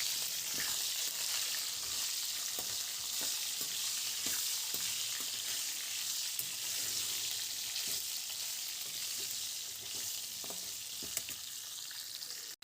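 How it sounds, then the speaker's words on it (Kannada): Chopped brinjal fries in an oil tempering with a soft, continuous sizzle and scattered small crackles. The sound stays fairly quiet and steady, and no one speaks. "ನಾನು ಮೊದಲೇ ಹೆಚ್ಚಿ ತೊಳೆದಿಟ್ಕೊಂಡಿರೋ ಬದನೆಕಾಯಿನ ಸೇರಿಸಿ ಒಂದು 1/4 ಗಂಟೆ ಬೇಯಿಸ್ತೀನಿ"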